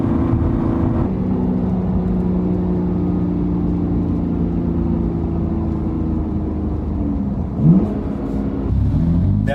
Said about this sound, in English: the turbos really do muffle the sound of the inline 6-cylinder.